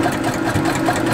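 A sewing machine runs steadily over a seam on a Halloween craft project, its motor humming in a continuous even whir for about a second, close and moderately loud with no talking.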